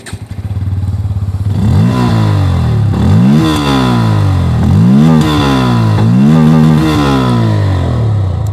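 The exhaust of a Bajaj Pulsar N160 motorcycle idles close and loud with a throbbing beat, then is revved repeatedly in rising and falling blips with no talking.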